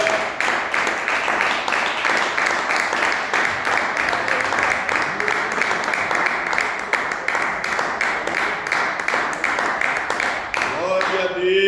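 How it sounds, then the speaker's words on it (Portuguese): A congregation at a Portuguese-language church service claps in steady rhythmic praise, the quick even beats continuing for over ten seconds under a wash of voices and music, with a voice speaking briefly at the end. "louvar a Deus com as palmas"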